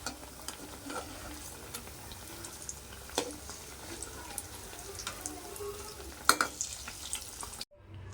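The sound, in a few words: sweet corn vadas frying in oil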